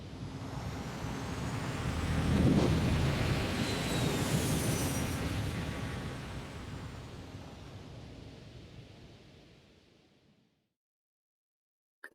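An aircraft takes off in the video game Phoenix Point: a loud, broad engine roar builds over a few seconds, holds, then slowly fades away and cuts to silence.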